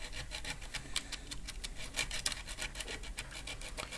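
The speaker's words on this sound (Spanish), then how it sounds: "Voy a dar una pequeña pasada, primero con la lija gruesa," Coarse sandpaper rubs back and forth over the internal contacts of a USB connector in quick, steady scratchy strokes, close up and continuous with no talking.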